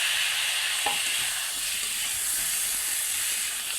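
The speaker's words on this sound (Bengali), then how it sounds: "আরও 1 মিনিট খানিক নাড়াচাড়া দিয়ে ভালো করে সব সমস্ত একসঙ্গে মিলিয়ে নিব" Potato and cauliflower with spices sizzle steadily in a pan while being stirred, a soft, even frying hiss with a brief scrape of the spoon near the start and no talking.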